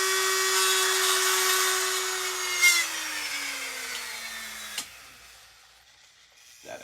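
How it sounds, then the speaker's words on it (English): A Dremel rotary tool grinds into a plastic model, a high steady whine that sags slightly in pitch as it bites, then cuts off with a sharp click and quiet spin-down. "I'm taking my Dremel. I'm just drilling a straight line."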